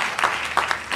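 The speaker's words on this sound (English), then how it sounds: "Clap your hands." A church congregation claps hands during a live ministry service, a short burst of loud, uneven claps with a few sharper hits.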